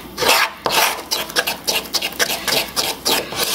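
Fresh cream is mixed briskly with a spoon in a small bowl, producing loud, close, rhythmic scraping and rubbing strokes in quick repeated bursts.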